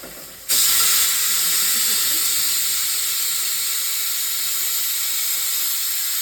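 A pressure cooker holding leafy greens hisses out steam suddenly through its whistle, then keeps up a loud, steady high-pitched hiss without a break.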